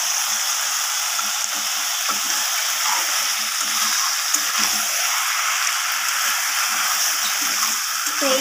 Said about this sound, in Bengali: তো এইভাবে খুন্তির সাহায্যে আস্তে আস্তে করে মাছটাকে কষিয়ে নিতে হবে।